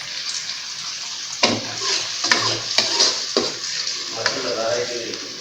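Chopped onions drop into hot oil in a pan for an egg bhuna dish, giving a loud close sizzle with bursts of crackling and stirring scrapes.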